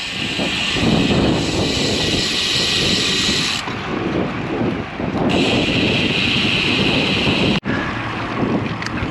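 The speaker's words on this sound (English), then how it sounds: "Strong wind wants to push me to the right." Strong wind buffets a cyclist's microphone in a constant loud roar with gusty swells and a brief dropout near the end, with no talking.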